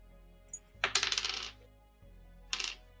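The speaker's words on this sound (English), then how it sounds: "to roll the dice." Dice rolled at a live fantasy improv charity show clatter twice across a hard surface: a long rattling tumble of quick bounces, then a shorter burst after a pause, close and fairly loud over a low hum.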